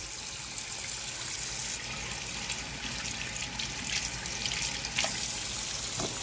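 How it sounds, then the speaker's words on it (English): Tomatillos being rinsed under a running kitchen tap, a steady broadband rush of water hitting produce and the sink with small splashy variations, close and continuous with no talk. "just rinse them off with water."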